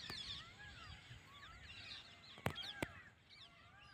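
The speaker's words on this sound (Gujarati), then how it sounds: "અવાજ સાંભળો તમે મોરલાઓનો" Peacocks call in the distance across a rural village farm field, high wailing cries repeating over quiet ambient background, with a couple of sharp nearby clicks midway.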